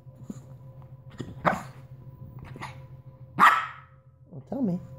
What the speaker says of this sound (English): No barking.